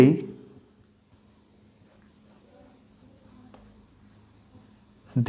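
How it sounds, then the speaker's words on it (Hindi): Marker or chalk writing on a board during a Hindi maths lesson on divisibility rules: soft scratchy strokes in short bursts, with a teacher's voice at the start and end. "मैं लिखता हूँ यहाँ पास"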